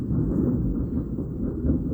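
Thunder from a storm rolls as a deep, continuous low rumble, muffled as if heard from indoors, swelling slightly but never breaking into a sharp crack.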